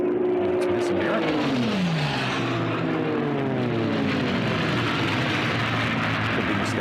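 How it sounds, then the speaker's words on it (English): Unlimited hydroplane race boats with V12 engines roar past, a loud drone whose pitch falls as they go by, followed by a broad rumble while a commentator talks over it. "Tommy, just listen to those beautiful V12 engines as they go by"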